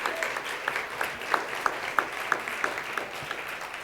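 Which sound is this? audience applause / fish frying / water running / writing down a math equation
audience applause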